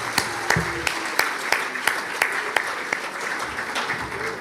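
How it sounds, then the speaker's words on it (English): Warm audience applause for students at the 2024 ICP World Convention, a full crowd clapping steadily with sharp individual claps standing out, filling the hall without talk. "let's give a warm applause for these wonderful students"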